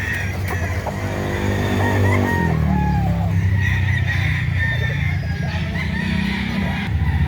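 Chickens and roosters for sale at a market crow and cluck over a steady bed of crowd and traffic noise, with a few calls standing out close by.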